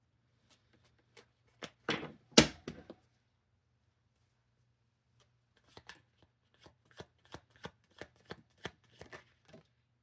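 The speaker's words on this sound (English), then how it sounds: "Last shuffle, Spirit. What do you got?" Tarot cards being shuffled in a quiet room: a burst of crisp riffling flicks early on, then a run of lighter, evenly spaced card snaps after a pause, close and fairly soft, with no talking.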